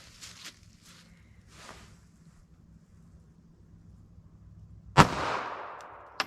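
A compact Kel-Tec pocket pistol fires one loud, sharp .32 ACP+P shot near the end, after a quiet stretch of outdoor wind noise and faint rumble.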